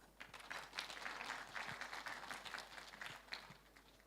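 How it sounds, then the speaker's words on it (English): An audience claps steadily after a keynote presentation at an international academic conference, a dense, sustained patter of many hands heard from the room, fairly faint and even throughout, with no talk over it. "Please give applause for all of us."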